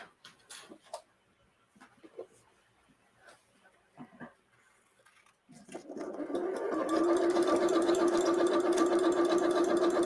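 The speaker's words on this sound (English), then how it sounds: "We've been sewing and filming all day in this room, Erin." Sewing machine stitching bathing suit fabric, starting after a quiet stretch and then running steadily and loudly in a continuous whir, with a dog whimpering softly earlier.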